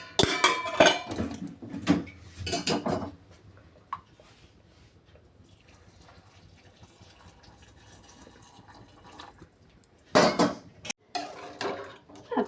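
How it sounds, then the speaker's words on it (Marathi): Hot water is poured into a pot of masala rice made with fresh pigeon pea beans. Short bursts of clattering and splashing come at the start and again near the end, with a quiet stretch between them. "गरम पाणी आता यामध्ये ओतूया"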